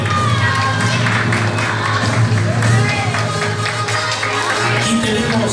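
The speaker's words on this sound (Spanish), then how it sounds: "démosle un aplauso bien fuerte para Kevin Ángel Luna Manrique" A talent show crowd greets a contestant with loud, sustained applause mixed with cheering and children shouting, a dense, close roar that stays strong throughout.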